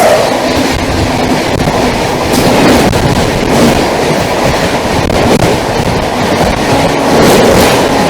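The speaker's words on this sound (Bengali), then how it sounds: "one five six four three Puri Kamakhya এক্সপ্রেসের সাথে আমাদের এবার দেখা হতে চলেছে" The Puri Kamakhya Express rumbles past on the Siliguri to Kolkata line, a loud, continuous roar of wheels and carriages with faint rhythmic clatter throughout, close by and unbroken.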